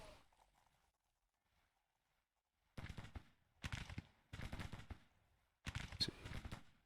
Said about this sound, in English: Meanwhile, our artillery is still over here. Looks like they're continuing to pound these guys.